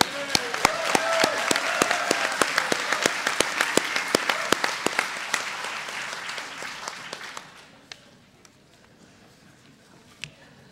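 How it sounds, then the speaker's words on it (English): A conference crowd applauds loudly for about seven seconds, the clapping thinning out and fading to a few scattered claps near the end. "Give him another round of applause."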